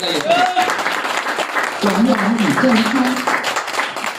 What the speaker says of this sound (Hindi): आप लोग अपने लिए ताली बजाइए